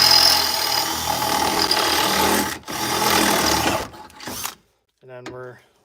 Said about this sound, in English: since this is so rusted, we're just gonna drill through this one